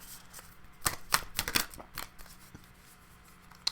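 Quick bursts of cards being shuffled, a few riffles and snaps close by, then quieter ruffling as the deck settles.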